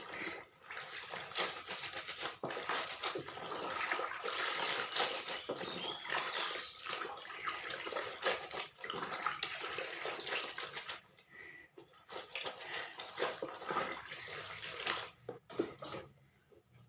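Clothes washed and squeezed by hand in a basin of water, continuous close sloshing and wringing with splashing bursts and short drips, moderately loud and without talk.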